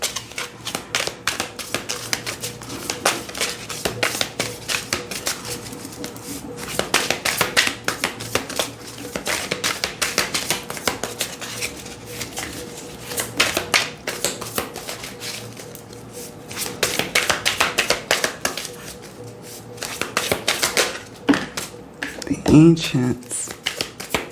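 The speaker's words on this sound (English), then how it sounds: "let's overhand shuffle it." Oracle cards are slid in repeated overhand shuffling bursts, crisp flutters coming in waves, with a brief spoken word near the end.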